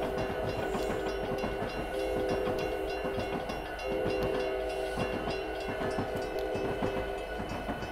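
A train in the Train Sim Classic game rolls steadily toward a crossing, with continuous rumbling wheels, rhythmic clickety-clack over rail joints and a sustained tonal hum, heard alone.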